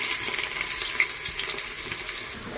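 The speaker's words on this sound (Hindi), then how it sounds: "इसको 1 मिनट के लिए अच्छे से प्याज को फ्राई करेंगे" Chopped onions frying in oil in a pan for a pumpkin sabzi, giving a steady close hiss and crackle that runs the whole time with no talking.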